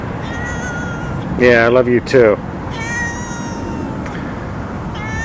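A cat meows a few times in quick succession, loud and close, with rising and falling wails over steady background noise while a person speaks before and after.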